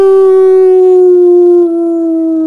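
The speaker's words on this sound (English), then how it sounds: "I need you to bark more. Come here. Howl. Just howl." A dog gives a long, loud, close howl, one sustained tone that slowly falls in pitch and is heard alone with no talking over it.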